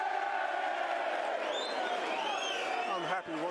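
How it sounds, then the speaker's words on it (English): Disgruntled West Bromwich Albion football crowd during a 0-0 match against Millwall, a broad, steady murmur of grumbling across the stadium with scattered whistles and shouts rising above the mass noise. "West Bromwich Albion crowd, vague noise of disgruntlement"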